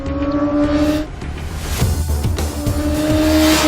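An MV Agusta F4RR superbike with an updated engine roars past on track: a loud, steady high-pitched engine whine that rises and shifts as it goes by, close and alone.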